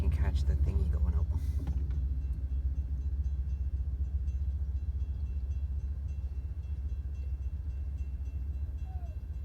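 A Connecticut Department of Transportation local train rumbles past in a steady low roar, fading slightly toward the end, with brief talk near the start.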